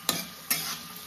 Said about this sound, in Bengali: এখন ভেজে নিচ্ছি হচ্ছে ফুলকপিগুলো